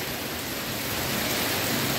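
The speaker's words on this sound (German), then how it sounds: "Unwetter hier mit Hagel" Heavy rain with large hailstones pelting down during a storm in Alanya, a loud, dense, continuous hiss and patter close by without speech.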